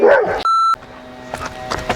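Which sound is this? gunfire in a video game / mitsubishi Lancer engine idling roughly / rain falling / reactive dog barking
reactive dog barking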